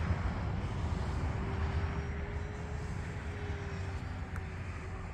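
E-flite T-28 1.2m RC model airplane creeping past low at about half throttle with full flaps, its engine a steady drone with a faint thin whine, continuous and moderately distant over outdoor wind noise.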